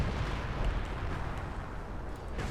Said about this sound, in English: artillery hitting this sector